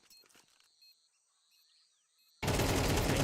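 AK rifle firing in a competitive Counter-Strike match, a loud sustained burst of automatic gunfire cutting in abruptly after quieter game ambience.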